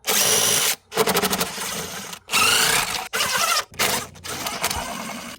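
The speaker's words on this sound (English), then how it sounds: "now we can remove the bolts holding the upper intake plenum on. They're 8mm." A power driver spins out the 8mm bolts holding the upper intake plenum on a Dodge Grand Caravan / Chrysler Town and Country, in five loud whirring bursts separated by short pauses, with no talk.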